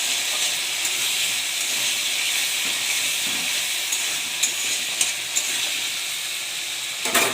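Ginger sizzling and frying in a hot pan for a paneer curry, a steady close hiss of oil running throughout with a few small pops and crackles.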